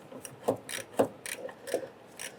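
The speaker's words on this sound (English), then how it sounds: "I'm going to use our 9mm and loosen this hose clamp." A ratchet with a 9mm socket loosens a rusted hose clamp on the fuel system of a 1997-2006 Jeep Wrangler. It gives a close, regular series of clicking pawl strokes, each click distinct, with nothing else in the background.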